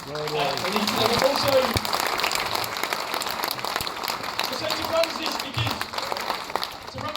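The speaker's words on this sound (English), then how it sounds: "So a big round of applause." Audience applause at a political talk after an election, a broad, continuous patter of clapping from a crowd that holds at a steady level, with faint voices and some murmuring mixed in underneath.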